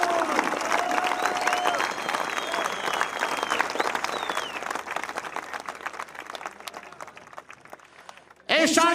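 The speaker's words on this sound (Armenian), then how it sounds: "խնդրում եմ ծափահարեք մեր հերոսական Կիրացի ժողովրդին" Sustained applause from a rally crowd rolls on under someone speaking over a loudspeaker, fading toward the end before a sudden loud swell of clapping and cheering.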